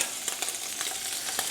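Scallops sizzle in a hot pan, a faint steady fry with soft crackles and pops, heard alone at close range.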